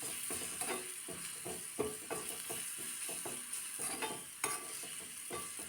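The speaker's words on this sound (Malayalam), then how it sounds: "ഇനി ഇതിൻ്റെ എല്ലാം പച്ച ടേസ്റ്റ് മാറുന്നിടം വരെ ഒന്ന് വഴറ്റിയെടുക്കാം" A crushed spice mix with asafoetida is sautéed for rasam, and fairly quiet frying hisses under brisk, repeated spatula scrapes against the pan. The stirring comes in an uneven rhythm with no talking.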